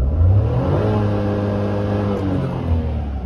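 Maruti Alto K10 petrol engine revved hard toward about 6500 RPM, a loud, close, steady engine drone holding near the limiter with a slight dip and swell, no talk.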